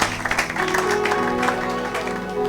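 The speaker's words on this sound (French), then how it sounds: "Acclamons pour la gloire de notre Dieu" A church congregation applauding and acclaiming together after a sermon, a dense burst of clapping mixed with voices and sustained musical tones underneath, loud and close.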